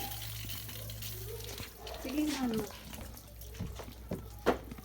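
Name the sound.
water poured while bathing a child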